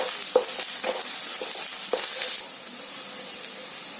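Onion frying with ginger-garlic paste and turmeric, giving a steady soft sizzle with a few sharp clicks of stirring near the start, no voices.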